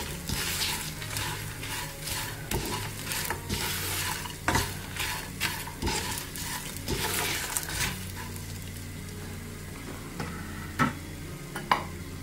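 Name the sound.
tamarind, ginger, shallots and curry leaves frying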